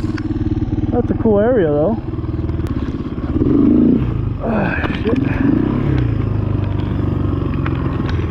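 Honda XR200 motorcycle engine droning steadily while riding off-road on a steep, off-camber trail, with wind buffeting and rattling; a rider talks over the engine partway through.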